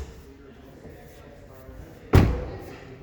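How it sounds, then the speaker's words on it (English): A 2020 Ram 1500 work truck with a 5.7 liter Hemi V8 has its hood popped open, a single sharp thud landing after a quiet stretch and then fading out, with faint background noise. "Pop the hood."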